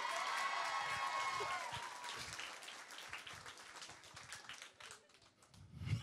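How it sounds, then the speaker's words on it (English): Applause and cheering from a stand-up comedy club crowd that starts strong and gradually thins into scattered claps before fading out. "clap for that"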